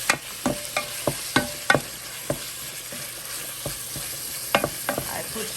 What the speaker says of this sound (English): I'm browning my mince meat